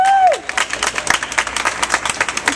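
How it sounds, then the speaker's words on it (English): Outdoor audience applause at a Model Block launch event in New York City, a steady patter of clapping with a few cheers over about two and a half seconds, following a brief whoop at the start. "Give a round of applause."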